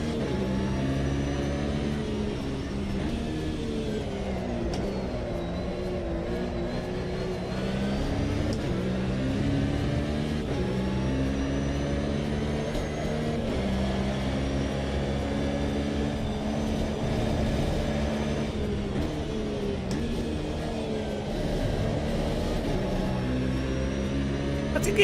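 A Lamborghini's engine drones steadily in the racing game Automobilista 2, loud and continuous throughout, with its pitch climbing and dipping through the gear changes.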